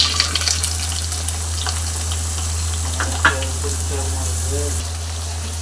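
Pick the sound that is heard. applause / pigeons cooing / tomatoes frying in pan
tomatoes frying in pan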